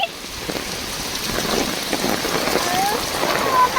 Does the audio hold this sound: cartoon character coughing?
no